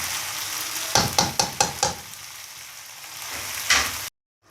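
Chicken kachnar keema fries in ghee in a pan, a steady sizzle broken by a run of four or five quick scraping stirs, then another stir near the end before it cuts off.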